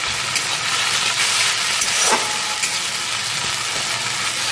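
Ginger frying in hot oil for a Bengali fish curry, a steady close sizzle and hiss running evenly throughout with no talking.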